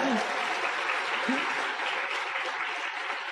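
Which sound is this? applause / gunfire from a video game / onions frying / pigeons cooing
applause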